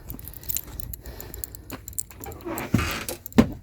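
Keys jangle and clink close by at a Thomas truck ignition, a series of metallic rattles ending in a sharper clack as the key goes in.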